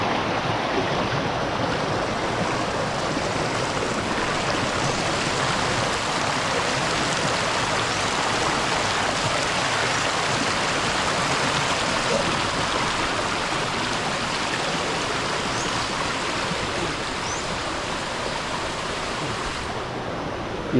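Fast floodwater in a small creek rushes in a continuous, loud roaring flow with no pauses, steady throughout.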